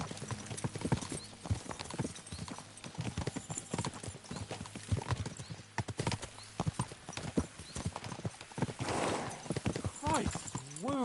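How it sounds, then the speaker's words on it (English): Horses gallop in a medieval video game, hooves clip-clopping in a steady rapid rhythm with an occasional whinny, loud and close, while people talk and shout over the hoofbeats. "We should spur the horses on."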